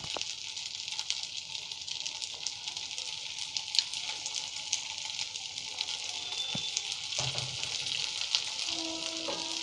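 Potato paneer cheese pancake frying in oil in a pan, a steady bright sizzle running throughout with a few faint clinks and scrapes near the end.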